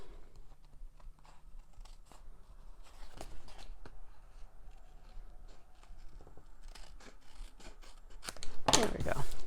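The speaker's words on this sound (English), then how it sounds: "I'll just use my scissors to cut away." Scissors snip through paper while trimming a handmade card envelope, a few short close cuts scattered across the stretch with a louder burst of cutting near the end; quiet room, no talk.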